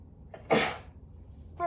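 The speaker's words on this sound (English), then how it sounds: "Oh, I'm gonna sneeze maybe." A single sharp sneeze bursts out near the mic, preceded by a brief faint intake of breath, then quiet.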